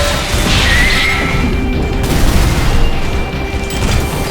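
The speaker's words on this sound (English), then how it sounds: "you got a lot of explosions" Dense, continuous explosion noise and crashing impacts from mech combat in Armored Core 6, loud and sustained with a brief bright whine early and surging bursts throughout.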